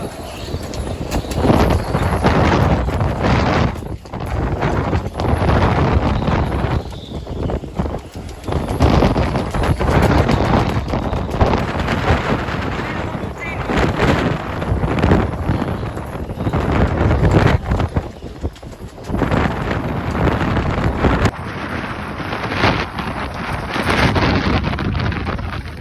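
Strong storm wind buffets the microphone in continuous heavy roaring gusts that swell and ease across the whole stretch, loud and close, with no clear voice over it.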